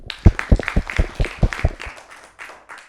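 A small group of children claps for a young scout, giving a short burst of a dozen or so sharp, close claps that thin out and fade within three seconds.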